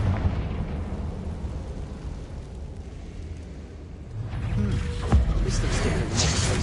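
A Confringo explosion spell in a Harry Potter video game lands as a deep rumbling blast with a sharp burst and crackling debris, over a low game soundscape.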